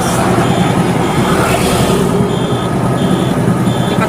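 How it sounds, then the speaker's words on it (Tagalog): A truck and a bus pass on a road, loud close engine rumble and tyre noise, with a repeating high reversing beep sounding in the background. "Ayan, truck, bus."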